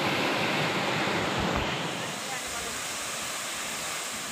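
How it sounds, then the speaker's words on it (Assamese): The Kakochang waterfall gives off a dense, steady roar of rushing water that stays loud and constant throughout. No voices or other sounds break through. "পাই গ'লো কাকচাং মানে কাকচাং জলপ্ৰপাত"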